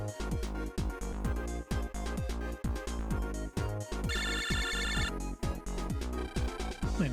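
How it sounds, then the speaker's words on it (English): A phone ringing in the video game Mega Man Battle Network 5 sounds as a chirpy electronic tone sequence over loud, steady game music with a pounding beat, clearly heard for about a second. "Wait, it's your phone."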